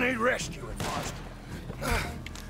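Gunfire in Red Dead Redemption 2 with an immersion mod: a few muffled shots and thumps mixed under close, overlapping voices, the shots partly buried by the talk.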